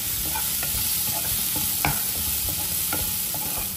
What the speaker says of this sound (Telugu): బీరకాయ ముక్కలు యాడ్ చేస్తున్నాను.